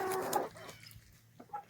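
Free-range roosters on a farm clucking close by, a burst of busy calls at the start followed by quieter scattered clucks.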